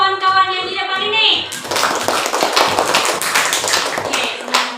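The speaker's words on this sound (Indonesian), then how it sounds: "Oke, tepuk tangan dulu untuk kawan-kawan yang di depan ini" Schoolchildren in a classroom break into clapping for classmates at the front, a close, lively burst of many small hands that starts abruptly after a teacher's spoken line and continues unevenly.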